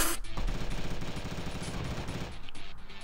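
Rapid sustained automatic gunfire from a mobile shooter game set in a factory level, a dense rattling burst running nearly the whole moment at close, loud level with no talk over it.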